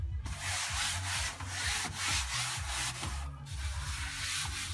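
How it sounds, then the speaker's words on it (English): A hand gently rubs wet acrylic paint across a canvas during an expressionist abstract painting, producing a steady, close, continuous scratchy rubbing with small pulses of pressure and no talk. "But I'll kind of just gently rub it."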